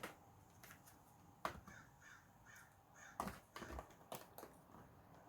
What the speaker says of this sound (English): And if you can hear the bird in the background,